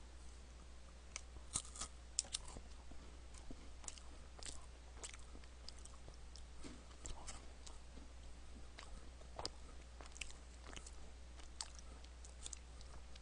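Close, quiet crunching and chewing of chocolate with a biscuit inside, irregular crisp bites over a low steady hum, no talking.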